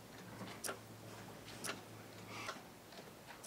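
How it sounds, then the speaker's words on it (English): A collection of ticking clocks, including an 8-day clock and small alarm clocks, gives faint, evenly spaced ticks about once a second over a quiet room background. "There's that one, which is an 8-day clock"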